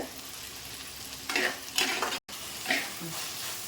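Onions and tomatoes sauté in a pan for a sardine fish curry, giving a steady sizzle throughout with a few louder stirring scrapes, a brief drop to silence midway, and no voices.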